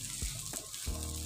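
Polao rice fries in a pan with green chilies, giving a faint, steady sizzle with a few soft stirring scrapes, alone and quiet.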